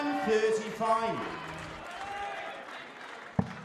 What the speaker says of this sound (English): Raucous atmosphere in the crowd.